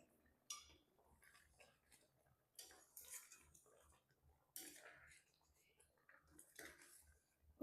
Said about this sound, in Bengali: এবার একটু নেড়ে নিই এই গরম মশলা গুঁড়োটা একটু মিশিয়ে দিই সবার সাথে